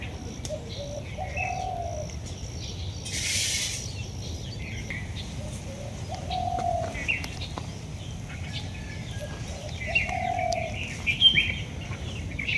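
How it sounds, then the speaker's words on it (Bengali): Doves call outdoors several times as soft, low coos spaced a few seconds apart, with faint chirps from other birds, a brief rustle and a steady background hum, and no talking. "কি সুন্দর ঘুঘু পাখির ডাক শুনতেছেন আপনারা?"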